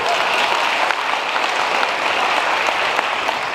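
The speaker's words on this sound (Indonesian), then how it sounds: "tepuk tangan luar biasa" A live audience claps steadily and loudly at a motivational talk, a dense, even wash of applause with no pauses.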